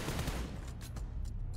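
Gunfire in PUBG Mobile during a competitive esports match: a short burst of rapid automatic shots crackles over a dense background, fairly faint and without commentary over it.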